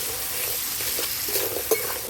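Crab pieces sautéed in ghee and spice paste, a steady close sizzle with soft scraping stirs running throughout and one brief sharper clink near the end.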